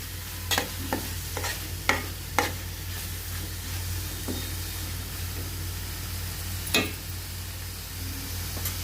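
Tomatoes fry in a pan at home while being stirred, a soft steady sizzle under a low hum, broken by several sharp scraping clicks of the spoon against the pan.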